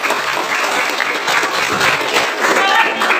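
Students applaud in a classroom after a presentation on Aedes aegypti mosquito breeding sites, a steady, dense burst of clapping with some faint voices mixed in.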